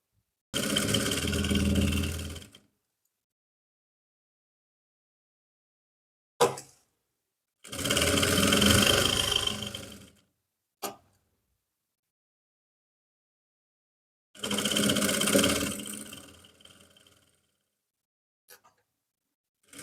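A sewing machine stitches a trouser leg in three long bursts of about two to three seconds each, separated by quiet pauses and a few brief knocks, with no talking.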